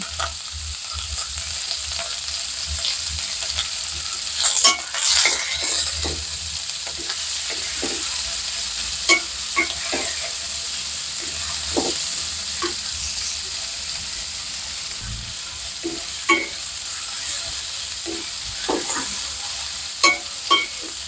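Onions sizzle steadily in a hot pan with a little salt in a home kitchen, a continuous frying hiss broken by occasional clinks and scrapes of a spoon against the pan.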